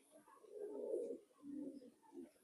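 Pigeons that have just been dewormed coo softly in a few low, rolling phrases, quiet and fairly close with short pauses between them.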